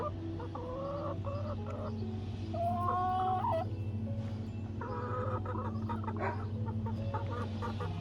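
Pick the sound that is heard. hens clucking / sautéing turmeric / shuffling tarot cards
hens clucking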